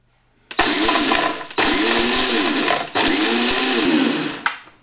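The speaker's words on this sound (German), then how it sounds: "Also einfach ein bisschen leicht anschroten, dass der Grünkern so ein bisschen gebrochen ist." A kitchen blender coarsely grinds green spelt and Brazil nuts in three loud, close bursts of high whirring with a rattling, pulsing texture, separated by brief pauses and ending in a short final pulse.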